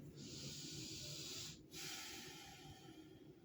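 A slow, forceful breath is pushed out through the nose during a yoga breathing exercise, a close, breathy hiss with a brief pause midway before it continues and gradually trails off.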